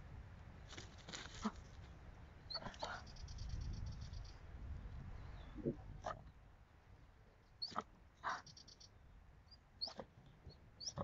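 An Airedale Terrier's faint, scattered yelps and whimpers, some sharp and some drawn out, come in short bursts over a low, rumbling background, around a horse.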